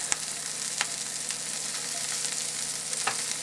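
Onions go into hot oil in a pan with Brussels sprouts and hiss with a loud, continuous sizzle. Occasional sharp stirring clicks and pops sound close by, with no talking.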